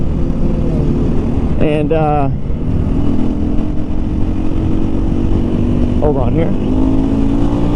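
A 2023 KTM 500 EXC-F motorcycle engine runs steadily, with a couple of brief revs, under someone talking throughout.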